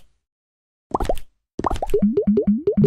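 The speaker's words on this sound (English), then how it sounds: "Sorry for the sound effects" Cartoonish plopping and boinging sound effects fired off during a livestream, a short burst followed by a quick bouncing run of repeated plops, loud and close with no talking.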